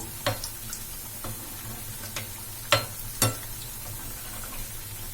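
Sweet bonda batter frying in hot oil, heard as a low steady bubbling bed with a few sharp crackles and pops scattered irregularly, fairly quiet and close.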